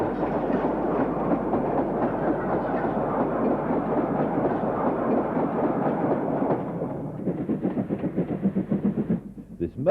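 A southbound Class 38 steam locomotive passes with a freight working, a steady loud rumble of wheels and exhaust that breaks into rhythmic clickety-clack beats toward the end and then cuts off.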